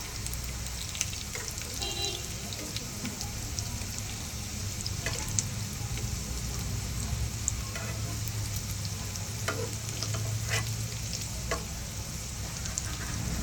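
Vadi made from jowar flour and dudhi (bottle gourd) fries in oil on a pan with a steady, close sizzle, broken by occasional scraping and clicking as the pieces are flipped over.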